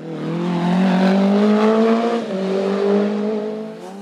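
Simca Rally 2 rally car at a hill climb, its engine revving high and hard with a rising whine, a brief dip as it shifts, then pulling on loudly and fading slightly at the end.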